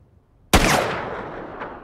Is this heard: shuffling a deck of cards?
no